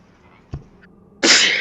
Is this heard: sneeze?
yes